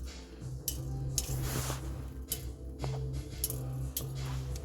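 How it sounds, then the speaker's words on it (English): Small strawberry seeds rubbed off onto aluminum foil, giving soft, irregular close-up ticks and light crinkly scratches over a faint steady background hum. "now I'm just rubbing the seeds off onto the aluminum foil"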